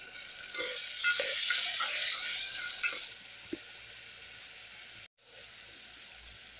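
Tomatoes added to frying onions in a pan for tomato charu, a dense close sizzle with stirring scrapes that fades to quieter crackling after a few seconds.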